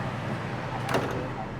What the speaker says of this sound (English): I love the automatic door. It's just a touch plate down on the bottom for those.